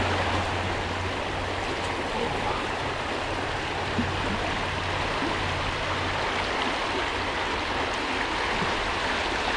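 A stream rushes steadily through a waterfall gorge in Ohio, a continuous broad wash of water noise with no breaks, close and fairly loud throughout.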